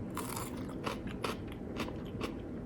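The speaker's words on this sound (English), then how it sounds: "I hope it's not annoying that I'm munching and chomping on this stuff. I hope you don't hear my chewing." Food being chewed and munched close up, a run of irregular crunchy bites with soft mouth noises over a steady low background, with no talking.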